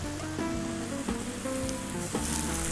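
Cooking wine hits a hot pan of three-cup chicken, and a short, bright sizzle rises with crackling bursts, close and fairly loud, with no talk.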